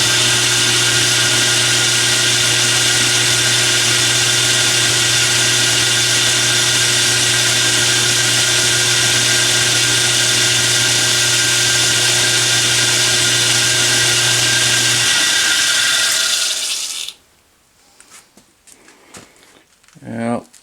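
A 1/4 inch end mill grinding a broken bolt flat on a log splitter gives a loud, steady, whining cut with a strong machine hum for about fifteen seconds before it winds down, followed by quieter clatter.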